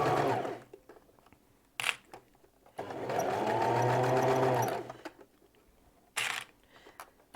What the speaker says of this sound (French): on a bientôt fini la couture de l'ourlet